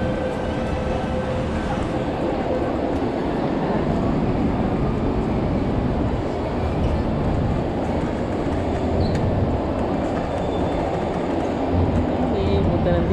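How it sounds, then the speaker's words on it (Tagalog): An interchange train bound for Disneyland in Hong Kong rumbles steadily and loudly throughout, a continuous rolling rail drone from inside or beside the carriage, with voices faint beneath it. "Ito na guys yung interchange train,"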